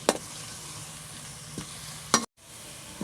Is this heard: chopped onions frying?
yes